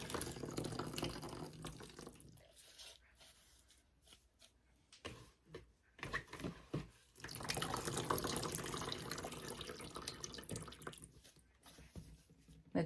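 Reverse osmosis water splashes and trickles as a pot for carnivorous plants is soaked, a steady close pour broken by pauses and drips before flowing again.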